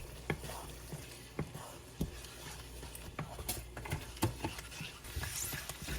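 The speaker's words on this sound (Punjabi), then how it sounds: "ਦਹੀਂ ਨੂੰ ਵੀ ਆਪਾਂ ਚੰਗੀ ਤਰ੍ਹਾਂ ਮਿਕਸ ਕਰ ਦੇਵਾਂਗੇ" Curd being stirred into a capsicum and paneer sabzi in a pan, with scattered soft scrapes and wet taps of a spoon against a low background sizzle, no voices.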